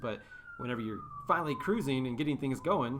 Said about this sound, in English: sorry about the siren behind me